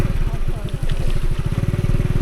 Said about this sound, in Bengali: নিয়ে বের হলাম আজকের বৃষ্টির দিনে মোটরসাইকেল রাইডিং